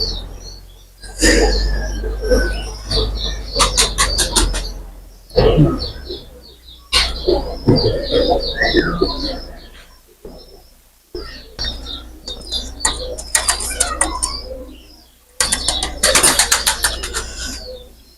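Pakistani pigeons in a loft coo in repeated throaty bursts, close by, with chirps and occasional wing flaps between the calls; someone speaks briefly among them.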